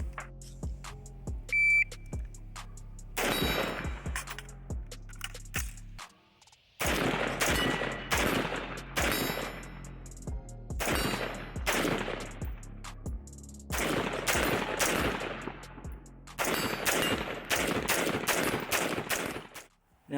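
An AR-15 rifle fires in rapid strings of sharp, loud shots, several shots per burst with short gaps between groups, heard close and outdoors without talk.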